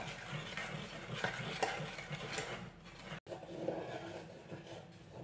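Arbutus berry jelly with sugar simmers gently in a pot while a spoon stirs it, producing soft scraping and bubbling with a quiet, close, steady texture and a brief cut midway.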